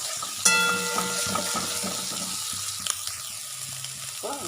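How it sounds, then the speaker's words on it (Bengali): Egg frying in a pan with tomato, giving a close, continuous sizzle that opens with a sharp clink and carries faint scraping underneath. "ভালো করে ভাজবো দেখো দিয়েছি ডিম"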